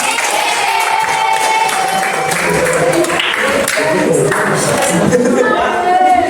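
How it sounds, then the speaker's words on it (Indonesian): Indoor audience clapping together after a class session, a dense, continuous patter of many hands mixed with crowd murmur and scattered voices. "boleh tepuk tangan untuk kita semua."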